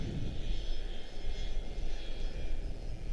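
United 885, a 25-year-old airliner inbound from Rome, lands at Washington Dulles with a steady broad engine roar and whine, sustained and fairly loud at a distance.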